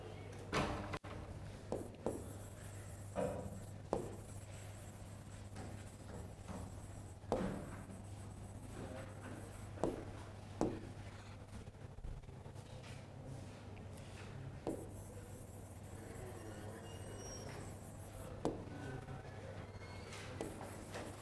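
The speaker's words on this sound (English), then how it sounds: "and I should write the title of the paper" Chalk or marker strokes on a classroom board during a lecture, with scattered sharp taps and scrapes separated by pauses over a constant low hum, fairly faint and without speech.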